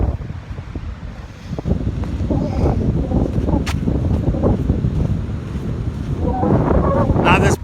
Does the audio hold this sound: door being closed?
no